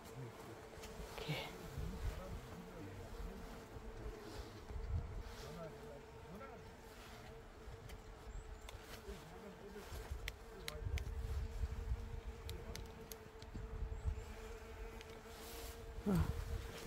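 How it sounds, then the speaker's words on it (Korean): Honeybees buzz continuously around the listener near their nest holes beside a valley stream, drifting nearer and farther, with low voices murmuring faintly in the background. "벌을 키워놨는지 벌들이 왕왕거리고 왔다 갔다 합니다"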